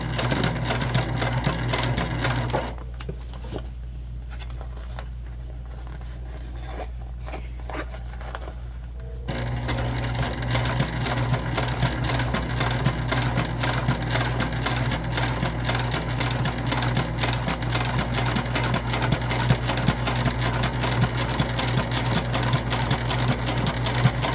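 A sewing machine stitches a crossbody bag in rapid, steady runs, close and loud, with a short quieter pause early on before the stitching resumes continuously.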